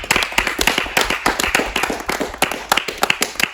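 A small film crew on a set for a slasher fight scene claps loudly and quickly, with dense, uneven hand claps running throughout.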